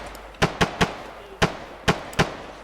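Gunfire from the Oregon Trail video game: six sharp, loud cracks in an irregular pattern, a quick trio followed by three more spaced shots, each cutting off abruptly, with no talking.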